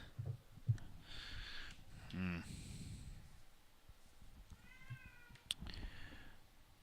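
A pet cat meows quietly a few times indoors, the soft, drawn-out calls separated by gaps filled with low room noise.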